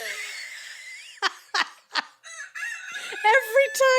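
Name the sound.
rooster crowing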